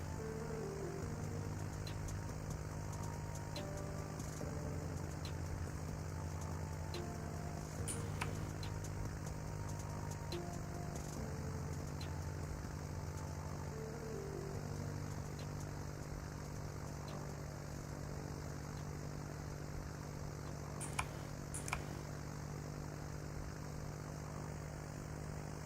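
A propeller airplane engine in the Roblox video game, a steady droning hum with a constant pitch that runs unbroken and fairly quiet for the whole stretch, with faint occasional clicks and no talk.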